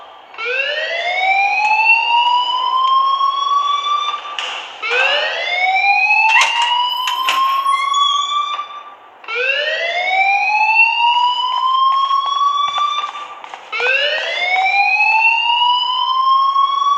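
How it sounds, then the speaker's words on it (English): A fire alarm in the video game Life is Strange repeats rising electronic whoops in four long, loud, close bursts, each sweeping upward before a short gap, with faint clicks between and no talking. "please turn off that alarm since that's your job"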